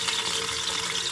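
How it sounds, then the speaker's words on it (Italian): Water splashes and hisses as it drops into hot frying oil while San Giuseppe fritters cook, a dense, steady broadband sizzle lasting about a second with no voices. "È caduta un po' d'acqua."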